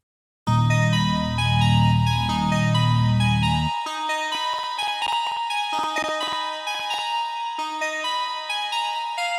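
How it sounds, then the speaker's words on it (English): Bright, bell-like synth lead melody from an FL Studio beat, first over a deep sustained low pad that drops out, then continuing alone with plucky repeated notes, loud and upfront. "So I started with a lead that sounds like this."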